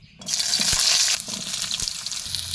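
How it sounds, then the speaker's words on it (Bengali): Potatoes hit hot oil in a heated wok with a sudden loud sizzle that settles into steady frying, with a few clicks of a utensil against the pan. "আলুগুলো একটু ভেজে নিই"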